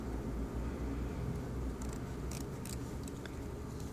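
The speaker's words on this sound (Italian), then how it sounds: "Magari se avessi un paio di forbici che tagliassero un po' meglio" Scissors cut through alcantara fabric as a beaded embroidery ring is made, several short crisp snips near and clear over a steady background hum.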